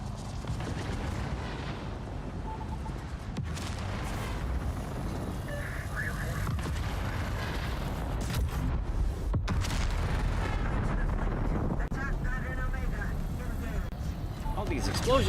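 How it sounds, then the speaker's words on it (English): Continuous rumbling booms and blasts roll on under excited talking, dense and steady throughout, like a busy battle in a video game. "All these explosions."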